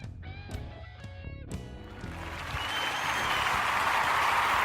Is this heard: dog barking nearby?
no